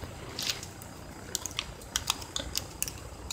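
Keys on a laptop keyboard clack in irregular bursts, sharp close clicks in quick clusters over a quiet background, with no voices.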